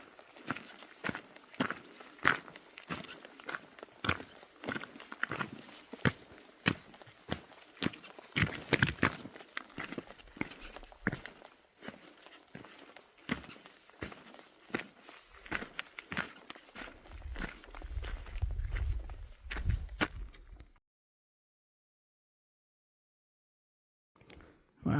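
Wild ponies walking along a trail in the Grayson Highlands, their hoofbeats a steady, uneven series of close, dull thuds over a grassy, rocky surface, continuing for about twenty seconds before stopping into silence.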